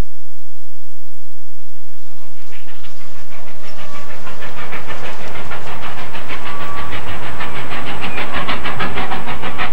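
A train on the Georgetown Loop rail line rumbles along the rails crossing Clear Creek, with a rhythmic clickety-clack that builds after a quiet start, loud and close, with a faint steady squeal.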